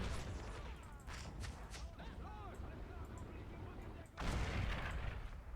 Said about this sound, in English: they got just some nasty artillery right now